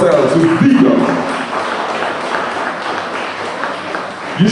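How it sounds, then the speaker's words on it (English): Vigorous audience applause at an awards ceremony, a sustained wash of clapping from many hands that stays fairly loud and even, with a brief voice at the start. "let me hear you applaud yourselves with vigor"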